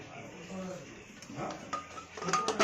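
A metal lid is fitted and locked onto a pressure cooker holding sweet potatoes and water, a few light clinks and a scraping twist near the end, with people talking over it.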